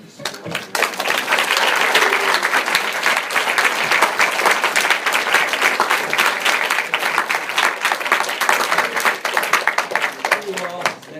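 A seminar audience claps for the students, a dense, sustained burst of applause that starts sharply and keeps going for about ten seconds before tapering.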